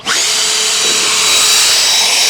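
A powerful air blower roars loud and close, drying a car during a mobile detailing job in Orlando, Florida, holding a steady whooshing rush with no talk.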